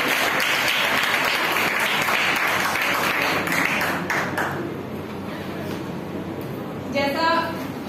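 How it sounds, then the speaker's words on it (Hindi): Audience applause at a Hindi women's poetry event launching the Kavya Akshar book, dense clapping for several seconds that thins and fades, then a voice begins speaking near the end. "एक बार उस आयोजन और उस काव्य अक्षर पुस्तक के लिए जोरदार तालियां बजाएगा"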